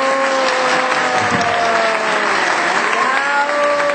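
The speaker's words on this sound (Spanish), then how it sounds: "Un aplausísimo, por favor" Audience applause after a concert performance, a dense steady wash of clapping sustained throughout with faint cheering and a held musical tone lingering underneath.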